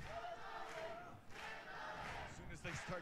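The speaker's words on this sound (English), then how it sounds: "As soon as they start to cheer for Yano, that just catches the attention." Crowd cheering and chanting from a Casey Powell Lacrosse 16 video game match, a steady wash of stadium voices rising and falling over three seconds, with a few louder shouts near the end.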